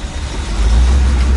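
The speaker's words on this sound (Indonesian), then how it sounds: "coba kita rev bomb di sini ya" A 1962 Chevrolet Impala engine revs close by, a brief, loud, deep rumble that swells and holds.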